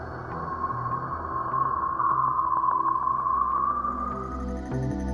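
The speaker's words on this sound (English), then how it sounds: "it still senses the shock waves emitted by the sun, which sound like this." Sonified shock waves from the sun: a faint, steady whooshing hiss carrying a sustained midrange whistling tone that swells and fades over a few seconds, with scattered soft clicks, alone and without talk.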